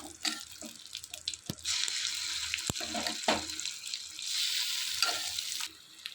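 Ground nalleru chutney goes into a pan of hot tempering and crackles in a steady, hissing sizzle, broken by a few sharp spoon knocks as it is stirred.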